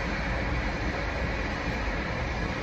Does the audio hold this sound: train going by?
yes